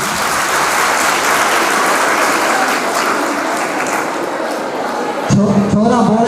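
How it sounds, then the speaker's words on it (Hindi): Steady, dense clapping from a crowd of students at a nursing college event, loud and continuous, with a voice starting to speak over it at the end. "एक बार ताली हो जाए"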